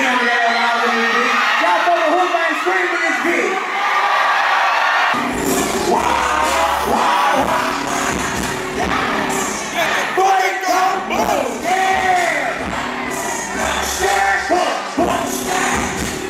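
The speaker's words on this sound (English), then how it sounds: "And look at the crowd's reaction." A big concert crowd cheering and shouting loudly and continuously for a rapper in Dallas, a dense roar of voices and whoops with music faintly mixed in.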